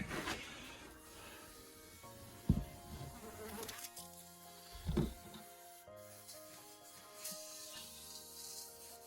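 A steady, quiet buzz of honeybees from hive colonies in winter hums in the background, with a few soft thumps and clicks breaking through now and then.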